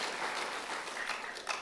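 A church congregation at a Sunday afternoon service breaks into a brief burst of applause, a dense, even wash of clapping that stays steady for a moment.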